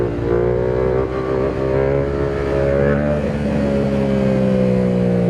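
A Yamaha R7 motorcycle engine revs hard and continuously during a standing wheelie, a loud, close, sustained roar with the pitch climbing and holding steady throughout.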